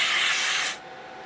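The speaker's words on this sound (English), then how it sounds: "you can spray down stuff like this" Contact cleaner hisses from an aerosol can in one continuous close, loud spray burst that cuts off sharply near the end, leaving faint room noise with no talk.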